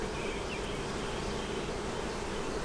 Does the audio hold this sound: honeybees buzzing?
yes